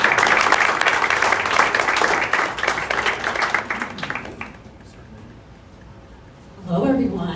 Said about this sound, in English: So please, a round of applause for Cumorah.